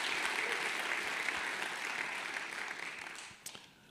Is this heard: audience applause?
yes